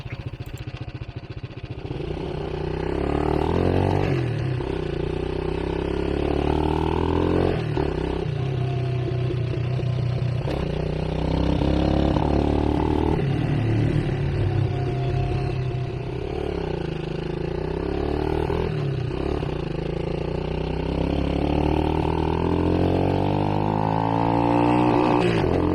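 A homemade DOHC twin-cam head fitted to an FIM152 engine runs loud and close, its note rising and falling through repeated revving sweeps as the machine pulls away and shifts, continuous throughout with no talk.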